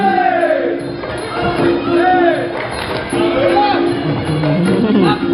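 A loud crowd of fans at a Muay Thai bout between Sroakraw and Mansur shouts and cheers continuously, the roar rising and falling under excited voices calling out throughout.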